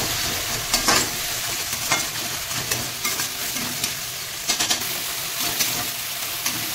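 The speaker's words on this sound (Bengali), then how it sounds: "একটু জল দিয়ে দেবো এই জলটা নাড়িয়ে দিতে হবে" Spice paste of chilli, coriander and Kashmiri chilli being stirred with a splash of water in a pan for a prawn jhaal, a continuous wet sizzle under repeated scraping strokes of a spoon, close and fairly loud.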